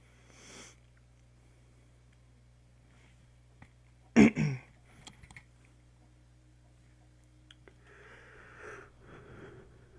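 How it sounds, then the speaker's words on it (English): A single big yawn around the middle, a short loud breathy burst with a trailing tail, heard over a steady low hum during gameplay of Xenoblade Chronicles X; otherwise quiet. "Big yawn."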